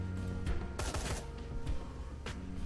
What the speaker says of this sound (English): let's do some burst fire